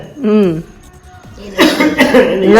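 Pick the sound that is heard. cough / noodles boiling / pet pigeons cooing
cough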